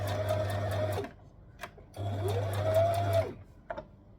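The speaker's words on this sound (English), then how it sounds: "I'm just going to fold this under and stitch." A domestic sewing machine zigzag-stitching a folded hem on a knit tee, two fast whirring bursts of about a second each separated by a pause, close, with small clicks between runs and no talk.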